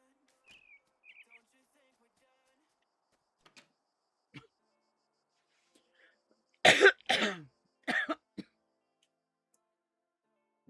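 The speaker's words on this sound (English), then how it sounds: "Hang on, I got a cough." A few short, close coughs and throat-clearing bursts break an otherwise quiet room, with faint small sounds before them.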